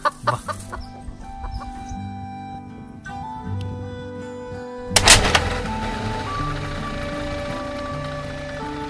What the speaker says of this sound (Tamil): இந்த கோழியை புடிச்சிட்டு வந்துட்டேன், புடிச்சு அதை கூட்டுல போடு.